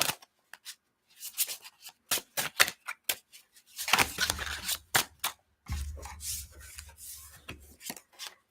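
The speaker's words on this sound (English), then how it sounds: "One more shuffle." Tarot cards are shuffled by hand in a series of crisp riffles and soft papery slides, separated by short pauses, close up and without talk.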